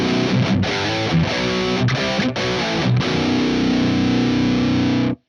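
A heavily distorted, high-gain electric guitar through the lead channel of a PRS MT15 amp plays chugging chords with brief choked pauses, then rings out on a sustained chord before stopping.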